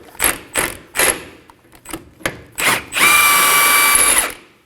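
An impact tool with a 24mm socket spins off a steering tie rod nut on a 2016-2020 Kia Sorento, sounding as a series of short loud hammering bursts and then a sustained whining run of over a second.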